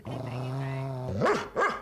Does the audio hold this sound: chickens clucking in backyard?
no